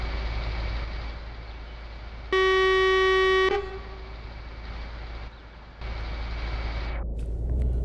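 Truck horn sounding in a truck driving video game on Xbox, one loud steady blast of about a second over a continuous engine drone, followed by road rumble.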